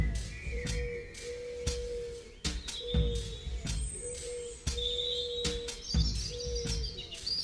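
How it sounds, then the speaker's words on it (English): A pigeon coos repeatedly in the background, low drawn-out notes recurring every second or so, mixed with higher bird chirps and scattered percussive knocks up close. "there's a little pigeon in the background there"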